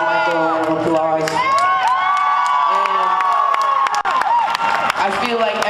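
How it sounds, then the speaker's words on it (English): Crowd cheering and whooping for Michael Jackson at Grauman's Chinese Theatre in Hollywood, loud excited voices and shouts over scattered clapping throughout. "So I think everybody should give Michael a round of applause."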